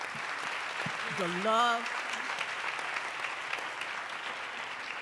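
Applause from an audience at an HIV and AIDS awareness question-and-answer event, a steady broadband wash of clapping running throughout while a voice speaks briefly over it near the start.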